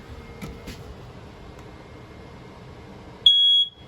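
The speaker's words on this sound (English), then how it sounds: "right above our heads here, we just got your smoke detector." Quiet room tone inside a 2021 Wildwood 36VBDS travel trailer, then a single loud, shrill electronic beep from a smoke detector lasting under half a second.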